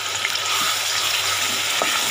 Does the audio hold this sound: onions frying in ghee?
yes